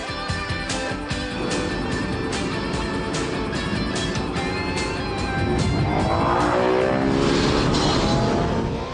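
A car engine roars continuously at about 230 km/h on a racetrack, revving steadily with a rising whine and brief tire squeal, loud and close throughout.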